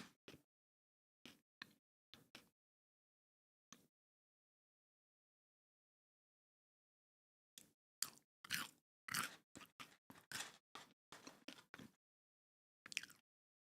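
Close, crisp bites and crunchy chewing of Arby's fast food, scattered clicks at first, then a dense run of wet munching after a silent gap, ending with one last bite.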